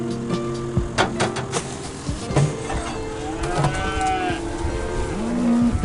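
Cattle moo in an open pasture used for ground disturbance, several low drawn-out calls from nearby and farther animals over a busy background of clatter and outdoor noise.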